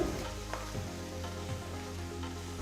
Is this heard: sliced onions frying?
yes